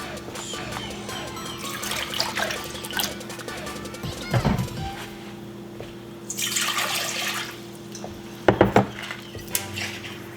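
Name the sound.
water being poured for pickling brine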